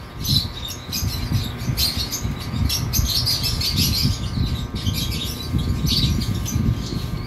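Pet birds in a breeding setup, including green split opaline and lutino hens, chirp and tweet continuously at close range, with busy overlapping calls and some flapping.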